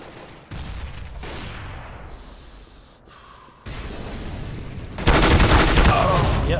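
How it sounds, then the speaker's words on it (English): Bursts of gunfire ring out in a CS:GO competitive match, loud cracking volleys separated by brief lulls, growing louder and denser toward the end, with a player's voice faintly mixed in. "Yeah, I missed all those shots."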